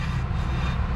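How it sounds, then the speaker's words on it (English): Low rubbing drone from a Toyota Highlander 3.3's brake backing plate or parking brake, a steady close grinding rumble that carries evenly through the whole moment with no voices. "That's either backing plate or parking brake."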